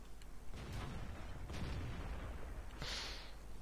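Tank guns firing in a World of Tanks clan battle on the Lakeville map: several booming shots and bursts spaced over a few seconds, with a brighter crack near the end over steady low battle rumble.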